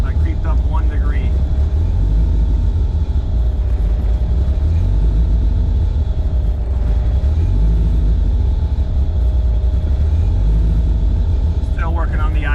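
A Toyota TE27 running a 3S-GTE turbo engine with big cams idles, giving a loud, constant low rumble that holds steady throughout with a slightly uneven lope.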